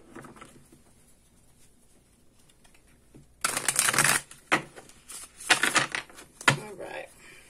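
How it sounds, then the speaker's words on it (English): Tarot cards are riffled and shuffled in several quick, crisp bursts up close, with quiet pauses between them. "let's go ahead and give the cards a really good shuffle"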